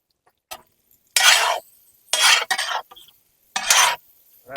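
Tomato and curry leaves stirred into squid fry in a pan, heard as four loud, scraping, sizzling strokes separated by short pauses, close and with no talking.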